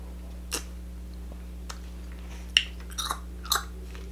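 King crab is eaten during a mukbang: a few sparse, close cracks and crunchy chewing clicks over a steady low electrical hum, without talking.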